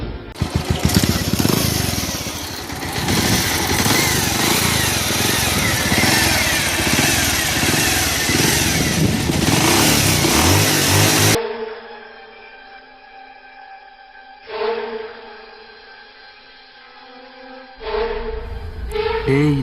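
A motorcycle engine runs loud and steady for about eleven seconds, then cuts out, leaving quieter stretches broken by short bursts of sound, with people talking nearby.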